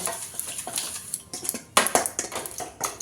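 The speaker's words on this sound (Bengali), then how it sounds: "খুব ভালো করে সব কিছু মিক্স করে নেব" A spoon stirs spiced pitha filling in a bowl, with turmeric, coriander and roasted cumin powder mixed in. Irregular metallic clinks and scrapes come close and fairly loud over three seconds, with no talking.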